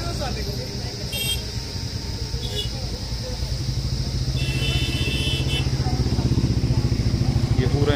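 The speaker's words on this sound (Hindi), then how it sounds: "ये पूरा यहाँ पे ग्रुप्स आ रखे हैं बाइक्स वाले।" Motorcycle engines from groups of bikers rumble steadily nearby near Kempty Falls, Mussoorie, with a brief horn toot, traffic noise building louder toward the end.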